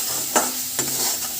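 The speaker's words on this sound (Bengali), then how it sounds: "দিয়ে একটু মশলাটাকে নাড়াচাড়া করে" Spice masala with coriander powder and salt is stirred in a pan for mutton keema ghugni. Two quick scraping strokes sound over a steady frying hiss, close and clear, with no talking.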